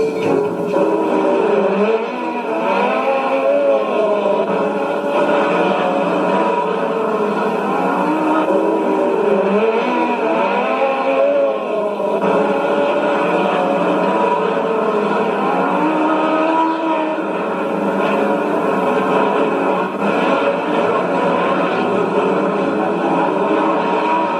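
Dirt track sprint cars racing, a continuous loud roar of engines droning and whining steadily throughout, with pitch wavering as cars circle the track.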